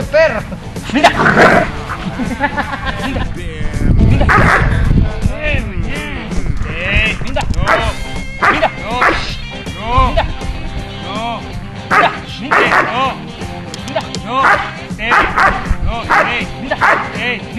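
A dog barks and yips repeatedly, loud and close, with excited shouting voices throughout.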